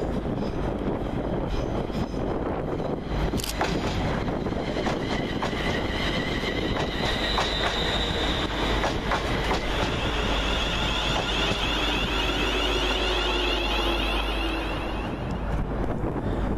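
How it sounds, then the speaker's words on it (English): A West Midlands Railway class 350 electric train passes through Aston station, with a loud sustained roar of wheels and wind, brief squeals and clanks, and a rising whine as it goes by. "following in the opposite direction, 350 238, working the 1050 West Midlands Railway service from Walsall to"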